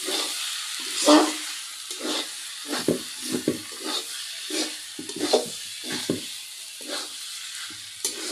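Food frying in a wok in a home kitchen gives a steady sizzle and hiss, broken by repeated bursts of stirring and scraping spread through the clip, with no talk.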